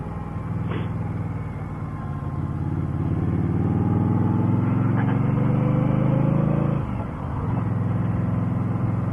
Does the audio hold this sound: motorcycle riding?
yes